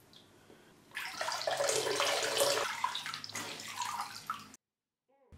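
Water splashes and sloshes as a British Army beret is dipped into a filled basin, a close, wet churning that rises, pauses briefly, resumes, then stops abruptly into silence.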